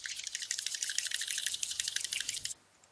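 A shaken, seemingly empty printer ink cartridge, its leftover ink sloshing and rattling in quick, dense bursts for about two and a half seconds, close and fairly loud, then stopping abruptly.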